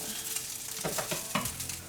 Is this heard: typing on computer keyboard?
no